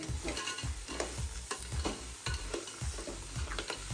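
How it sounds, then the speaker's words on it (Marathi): Crabs being stirred slowly into masala frying in hot oil, with a steady sizzle and a rhythmic scrape-and-clatter repeating about every half second, close and continuous. "आता ही खेकडे टाकून घेतली याच्यामध्ये आता आपण याला सावकाश मिक्स करून घ्यायचं सगळ्यांना"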